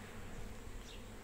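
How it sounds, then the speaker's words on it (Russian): Honey bees buzz around a nucleus hive while foraging on rapeseed, giving a soft, steady, continuous outdoor hum with no voices. "Вот видим, как пчелка работает на рапсе."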